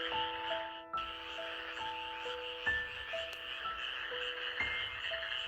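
Frogs croak steadily in a wetland chorus, repeated tonal calls overlapping against a dense background of insect-like trilling, with no voices.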